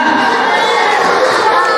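A children's audience applauding and cheering at an Islamic religious talk, a short burst of dense clapping mixed with excited chatter and shouts from the crowd.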